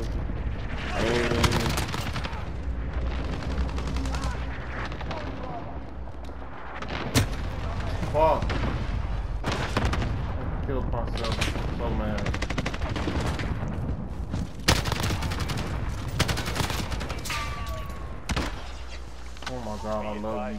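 AUG rifle fire in a shooter game crackles in rapid bursts and single shots throughout, loud and dense, mixed with other battle noise, with a voice talking over it.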